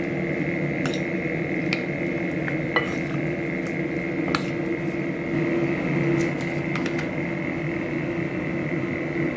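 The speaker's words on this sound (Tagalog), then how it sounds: "haluin lang mabuti hanggang makoat niya lahat ng chicken" Marinated chicken pieces are stirred together with cornstarch in a bowl, giving soft squishing and wet mixing sounds with scattered light clinks of a utensil, steady and close, with no one speaking.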